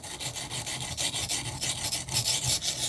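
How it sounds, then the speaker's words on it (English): A knife blade is ground on a coarse budget sharpening stone to reshape the bevel, giving a continuous close scraping rasp in quick back-and-forth strokes. "basically grind in the bevel in the back of the edge. I needed something aggressive enough to get through that material and to get through it quickly."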